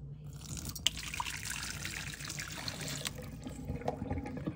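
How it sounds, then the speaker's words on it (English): Descaling rinse water from a coffee maker is poured out into a sink, giving a running trickle with scattered drips and splashes at close range, with no talk. "So now I'm going to discard this water here"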